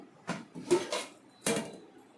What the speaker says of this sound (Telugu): మామిడికాయ ముక్కలు వేస్తున్నానండి.